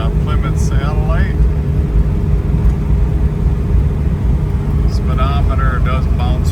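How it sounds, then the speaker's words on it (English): A 1973 Plymouth Satellite drives at road speed, its engine and road noise forming a steady, loud drone while someone talks over it. "We're out driving our 73 Plymouth Satellite."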